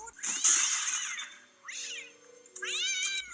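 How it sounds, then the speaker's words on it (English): Several cats meow in a movie scene, a long drawn-out meow followed by two shorter rising meows, close and clear with no talking. "Cats."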